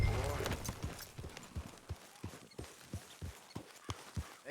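Steady rhythmic clip-clop of horse hooves trotting on hard ground in the video game Red Dead Redemption 2, close and even-paced, with a brief voice at the start.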